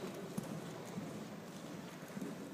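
Horse hooves clip-clopping as a Shagya horse is ridden at a walk in an arena, quiet, soft, irregular footfalls heard close by against a low background.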